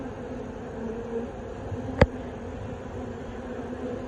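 A steady, low insect drone of honey bees buzzing at a hive entrance throughout, with a brief sharp click near the middle.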